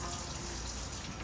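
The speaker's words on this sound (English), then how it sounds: "It's bubbling." A pot of curry made with coconut milk bubbles and simmers steadily, a close, continuous, dense wash of liquid bubbling with no talk.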